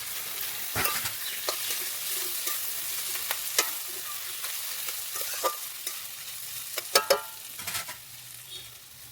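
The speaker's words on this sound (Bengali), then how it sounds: "এখন শুটকিটা আর লঙ্কা বাটাটা দিয়ে ভালো করে ঢেকে কম আঁচে ভেজে নেব" Dried fish with chili paste and browned onion fries covered on low heat, a soft steady sizzle broken by scattered spoon scrapes and stirring clatter, close but quiet.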